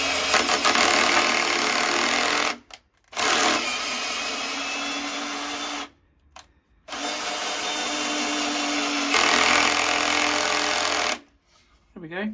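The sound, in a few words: power driver running screw out and back into flat pack furniture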